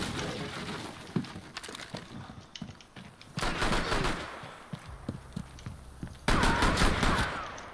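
Revolver gunfire in the Rainbow Six Siege video game: loud, close shots in separate bursts over a rumbling, noisy in-game background, with the sharpest volleys coming midway through and again near the end.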